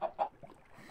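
A Minecraft chicken gives two quick faint clucks close by, followed by a softer trailing murmur, alone without speech.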